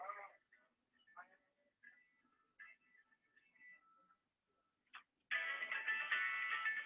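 An electronic phone ringtone starts suddenly and rings loud and steady after a few faint tonal beeps and quiet pauses.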